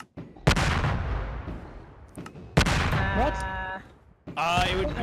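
Explosions in a Minecraft-style block game burst out in two or three loud, sudden blasts, each tailing off into a rumbling decay, with a sharp crackle near the end.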